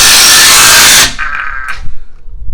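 A power tool tightens the hitch bolts on a Jeep JL, a loud, close whirring burst that cuts off sharply after about a second, leaving faint clinks and a low rumble.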